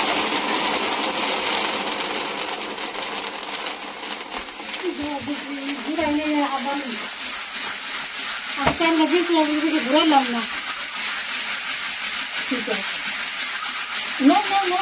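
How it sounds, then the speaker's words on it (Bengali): Puffed rice (muri) frying and being stirred in a hot pan, a steady dense crackling hiss throughout with occasional scraping stirs, while someone talks over it intermittently. "বন্ধুরা দেখতে পারলে কেমন করে মুড়ি ভাজা হয়।"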